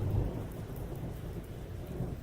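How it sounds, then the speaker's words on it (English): Heavy rain pours steadily over low rumbling thunder, a dense continuous storm wash with no voices, the rumble strongest at the very start. "The rain pours on heavily so."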